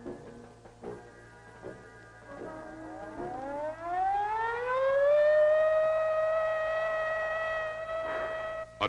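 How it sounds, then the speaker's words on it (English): A civil defense attack warning siren winds up from a low growl into a loud rising wail, then holds a steady, sustained tone, sounding alone with no voices. "Attack warning came at 20:15 hours."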